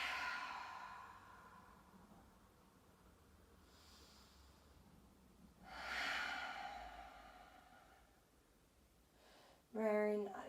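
Slow, deep breaths during a hip-release yoga flow, soft airy exhales rising and falling in long, spaced cycles, close and quiet, with a stronger breath near the middle and a brief voice at the end.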